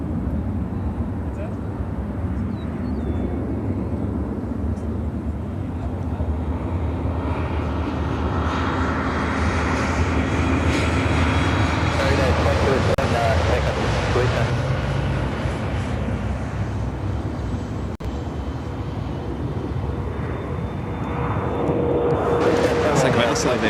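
A United Airlines A319 jet takes off at Chicago O'Hare with a sustained, roaring engine rumble that swells to a peak midway and stays loud, heard from a distance across the airfield with steady broadband wind-like noise.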